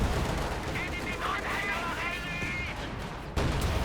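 Gunfire from an H-35 light tank and other units during a Company of Heroes 2 one-versus-one match, heard as continuous crackling shots and bursts with metallic whines and a sharp louder blast near the end, dense and steady throughout.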